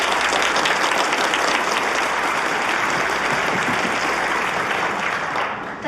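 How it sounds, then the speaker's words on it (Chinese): Sustained audience applause at a debate competition fills the room, a dense, loud wash of clapping that holds steady for several seconds and thins slightly at the end. "也让我们把掌声送给他们。"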